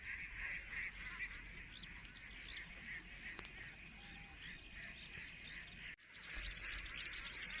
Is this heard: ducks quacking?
yes